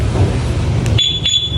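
A Yamaha Aerox V1 scooter's aftermarket alarm sounds a sharp, steady electronic beep that cuts in partway through over a low engine-like rumble, with a brief chirp just before it and a second pulse after a short gap.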